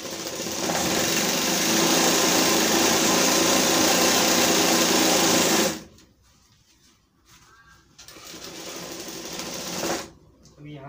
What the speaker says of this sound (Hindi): अब आस्तीन का सिलाई मारेंगे और साइड में से कली का भी सिलाई मार लेंगे।